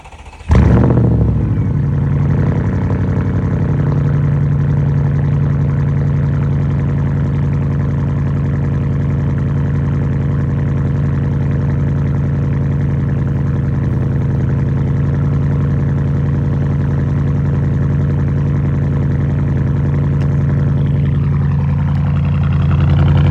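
Straight-piped Audi A8L cold-starting with a sharp crank and bark, then settling into a loud, deep, steady idle that drones on close by for over twenty seconds with no talking.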